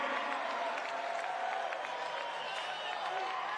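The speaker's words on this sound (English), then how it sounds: "Give it up for Moto, everybody." A crowd at Tony Hawk's Vert Alert 2023 skateboarding contest in Utah applauds and cheers a vert win, a steady, distant-sounding wash of clapping and voices throughout.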